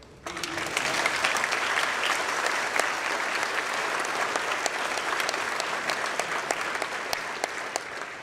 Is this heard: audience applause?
yes